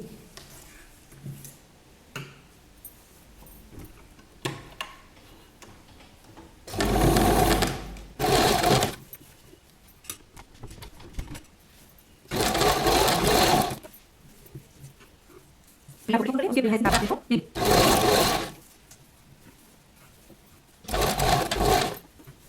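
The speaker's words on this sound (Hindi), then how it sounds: "यहाँ ऊपर से इसके बराबर बराबर आप सिलाई लगा लेंगे" Sewing machine stitching a party-wear girl's gown runs in five loud, steady bursts of a few seconds each, separated by quiet pauses with faint handling sounds.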